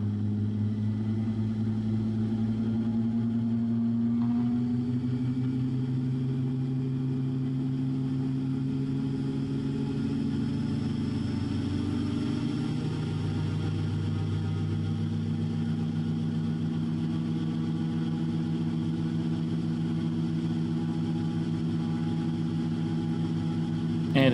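The engine and propeller of the Raptor prototype aircraft run continuously with a steady low drone. The pitch shifts slowly and smoothly as the engine speed changes, and no voices are heard.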